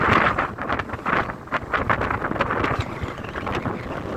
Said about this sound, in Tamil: ஒரு மாதிரி காற்று பாருங்க எப்படி அடிக்க, நிற்கவே முடியல என்னால், அப்படி காற்று அடிச்சது.